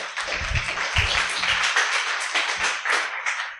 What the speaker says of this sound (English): You're going to get a double applause because you get one now